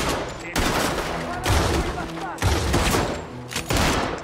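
Rapid gunfire in the Red Dead Redemption 2 video game, loud dense bursts of overlapping shots in several waves, close and intense throughout.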